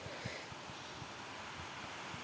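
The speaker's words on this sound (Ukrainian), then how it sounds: "Ще вітер на вулиці." Steady wind hisses and rushes outdoors, a broad constant noise with faint low thumps of gusts against the microphone.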